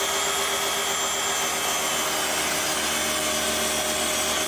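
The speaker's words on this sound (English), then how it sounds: "run it through the table saw and we're gonna set our depth and we're gonna cut over to match up with each line" Table saw cutting a groove into wooden trim for a bathroom mirror frame, a loud steady whine of the blade through wood running for the whole stretch, no pauses and no talking.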